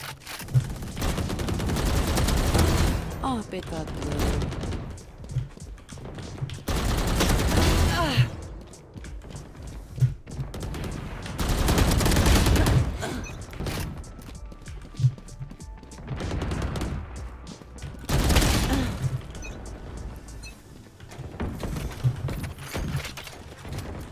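Bursts of automatic fire from a Vandal rifle with the Cyberpunk skin in Valorant, several sprays of rapid shots separated by short gaps, loud and close, with some game sounds in between.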